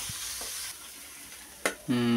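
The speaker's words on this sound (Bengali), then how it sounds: "শাক ভাজা তো হলো, এখন শাক ভাজা উঠাবে" Fried greens are stirred and lifted from a pan, with soft sizzling and a few scraping strokes, then a sudden louder burst of frying near the end; no talking.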